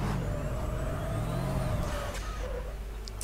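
Formula Truck racing in Automobilista with a 12-litre engine: steady heavy diesel drone and whining turbo, then a sharp hiss near the end like an air brake release, loud and close with no talk.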